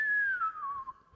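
A single short whistle from a person glides steadily downward in pitch, faint and alone for about a second.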